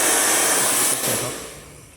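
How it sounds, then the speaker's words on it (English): A hair dryer fitted into an acrylic paint drying rig blows with a loud, steady airy roar close by, dipping briefly mid-way and then fading as it winds down. "okay, so this is the hair dryer."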